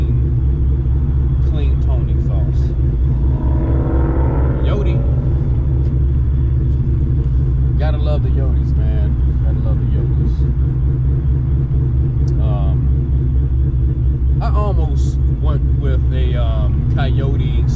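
A 1998 Ford Mustang Cobra with a 4-valve motor and rear mufflers rumbles in a steady, loud, deep idle throughout, with someone talking over it.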